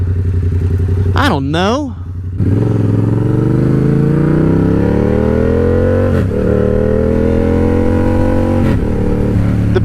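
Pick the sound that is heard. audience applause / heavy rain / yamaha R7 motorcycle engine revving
yamaha R7 motorcycle engine revving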